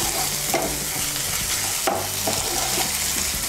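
Ginger and garlic paste is stirred into onions frying in a pan, a continuous sizzle broken by brisk scraping strokes of a spoon against the pan, close and fairly loud, with no talking.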